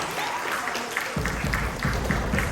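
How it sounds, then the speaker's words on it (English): An audience applauding a third-place team at an elementary school event, clapping picking up partway through and continuing as a moderate, steady patter. "Let's give them a big round of applause."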